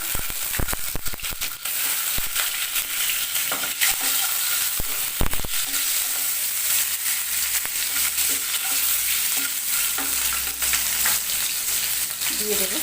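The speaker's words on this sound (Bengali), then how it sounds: "ডিমগুলো ভাজবো, কড়াতে তেল দিয়ে দিলাম" Eggs fry in hot oil in a wok, giving a steady close sizzle with scattered sharp crackles and a few louder spatter pops, and no talking.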